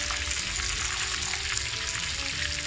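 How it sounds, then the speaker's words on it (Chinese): Threadfin fish fries slowly in hot oil, giving a dense, continuous sizzle at close range that stays even throughout, with no talking. "鱼已经煎到它差不多"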